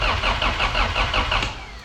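A car engine, unstarted for two years and without a fuel pump, cranks over in a steady rhythmic churn, about eight repeated turns, loud and close, then slows and fades without catching.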